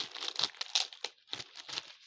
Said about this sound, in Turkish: şöyle elimde bir kargo poşeti var